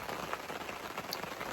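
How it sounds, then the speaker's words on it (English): Rain patters on a fishing bivvy at a carp lake, a dense, steady spatter of drops hitting the shelter close by, with no voices. "As you can probably hear, it's just decided to have a nice rain."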